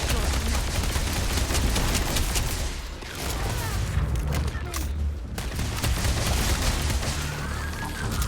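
Dense, sustained gunfire from the video game Starfield, a loud continuous barrage of shots with booming low end that briefly dips in intensity midway before resuming.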